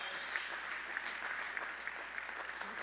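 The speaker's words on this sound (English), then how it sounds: "Let's give them all a big round of applause" A crowd at a university spring commencement ceremony applauds for cum laude graduates with continuous, even clapping at moderate volume.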